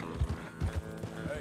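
Horse hooves clip-clop in the video game Red Dead Redemption 2, several uneven heavy steps at close range over a steady background hum.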